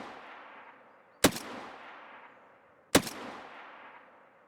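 Two loud, sharp machine gun shots in the video game Escape from Tarkov, spaced nearly two seconds apart, each trailing off into a long echoing tail with nothing else in between.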